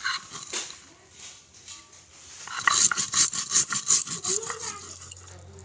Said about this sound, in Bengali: তো এগুলাকে আমি এখন বেটে নিব সবগুলো এক এক করে একখানি।